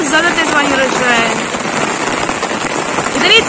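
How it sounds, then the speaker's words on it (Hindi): Heavy rain pours down in a loud, dense, continuous hiss of drops striking surfaces, with some voices faintly mixed in. "इतना तेज बारिश हो रही है"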